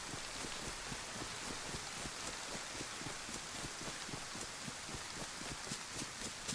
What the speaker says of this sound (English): What I don't love is nighttime rain in DayZ